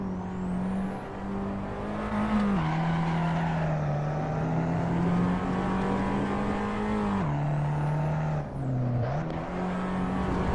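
An Abarth road car's engine drones in Assetto Corsa during a driving-school career race, holding a steady buzzing note with pitch dips as gears change and it slows for corners, loud and alone.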